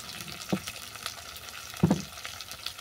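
Sweet potato, potato and eggplant fry in oil in a pan, a soft steady sizzle with a couple of sharper crackling bursts, close and alone without voices.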